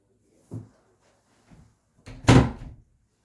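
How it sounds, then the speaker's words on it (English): A room door shut with a soft knock, a faint brush, then a louder closing thud and rattle, close by with no talk. "Let me shut my door again."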